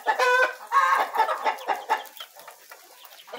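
Laying hens cackle in a close run of rhythmic, excited calls, loud at first and trailing off into quieter clucks.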